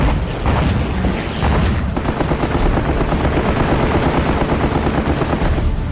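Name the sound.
anti-aircraft flak gunfire in a Leyte Gulf war documentary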